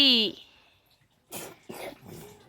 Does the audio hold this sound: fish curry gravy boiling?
no